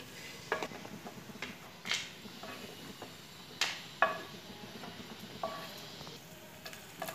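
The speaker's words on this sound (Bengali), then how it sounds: "আমি আলমন্ড বাদামগুলো ভেজে নেব।" Almonds frying in a pan for semolina laddu give a soft, steady sizzle punctuated by sharp clinks and scrapes of a spoon stirring against the metal every second or so, with no talking.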